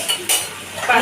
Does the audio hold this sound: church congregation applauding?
no